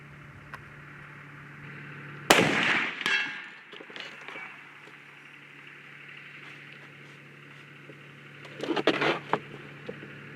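A single sharp shot from a Hankins custom smokeless-powder muzzleloader loaded with a 275-grain BE bullet, loud and close with a short ringing tail, followed about six seconds later by a second burst of clatter and handling noise.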